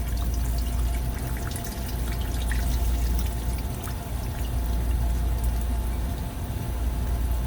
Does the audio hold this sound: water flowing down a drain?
yes